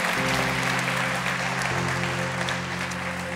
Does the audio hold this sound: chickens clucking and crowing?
no